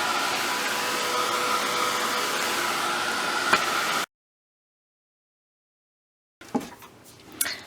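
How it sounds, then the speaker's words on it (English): A powerful heat gun blows steadily on ink, a loud, even whooshing hiss for about four seconds, then silence, followed by brief, softer bursts of airflow and handling noise. "I changed heat guns from using the Ranger heat gun, because it doesn't, and I started using the more powerful heat gun."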